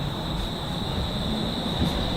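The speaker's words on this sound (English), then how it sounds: "Let's just stop and wait and see the train go." Stockholm metro train pulling away from a station, a steady low rumble with a sustained high whine running throughout, fairly loud and continuous with no voices.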